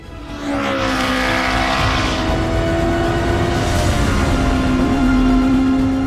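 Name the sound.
race car with 1300cc turbocharged engine at Pikes Peak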